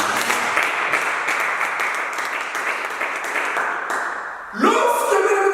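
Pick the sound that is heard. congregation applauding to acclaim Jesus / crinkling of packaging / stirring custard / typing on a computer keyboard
congregation applauding to acclaim Jesus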